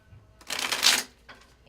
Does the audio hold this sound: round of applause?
no